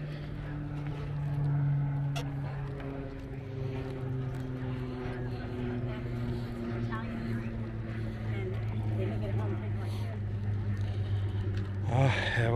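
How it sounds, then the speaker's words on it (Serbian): A new small motorboat out on the water runs its engine with a steady, low droning hum that slowly shifts pitch, along with faint splashing and a brief scrape near the end. "Evo ga i naš novi čamac"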